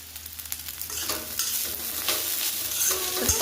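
Onion and kurdai, a village-style vegetable dish, sizzle as they are stirred and tossed in a hot pan, with loud continuous frying and a spatula scraping the pan now and then.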